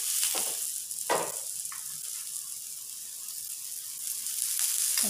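Ragi roti frying in oil on a pan, a steady close sizzle and hiss with a few sharp crackles and pops along the way.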